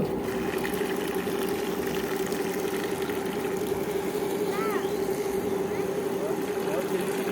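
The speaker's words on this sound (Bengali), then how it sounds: "তার লাগানোর সাথে সাথে জল বেরিয়ে আসছে মোটামুটি স্পিড আছে কারণ বারো ভোল্টের ব্যাটারি এটাই যথেষ্ট" A small 12V battery-powered water pump runs with a steady motor hum while water pours out in a constant splashing stream, close by and unbroken, with a voice heard over it.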